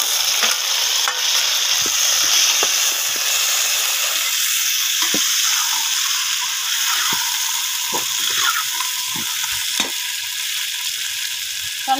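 Onion and tomato sizzling in a pan, a steady bright hiss throughout with soft stirring scrapes and clicks, close and alone.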